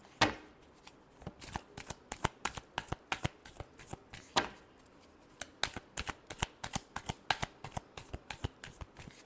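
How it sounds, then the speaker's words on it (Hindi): Tarot cards being shuffled close up: a quick run of crisp riffling flicks and slaps in an uneven rhythm, with brief pauses between bursts and no talk. "Last shuffle."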